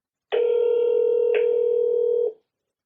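A phone call being placed from a mobile phone: a steady, loud dial-type tone holds for about two seconds, with a brief click-like break midway, then stops abruptly. No talking.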